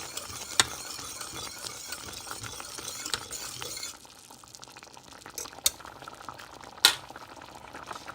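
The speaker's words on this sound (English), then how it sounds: "I will need to continue to boil this and stir it to prevent it from sticking" Clear medium tapioca pearls boiling in a pot of water while being stirred, with a soft, steady bubbling hiss and occasional sharp scrapes and clinks from the spoon against the pot.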